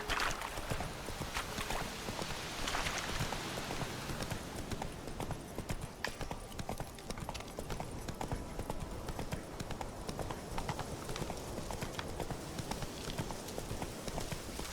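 Roach, a horse in The Witcher 3, gallops in a steady, rapid clip-clop of hooves that runs throughout, close and fairly loud, with ambient outdoor noise layered beneath the hoofbeats.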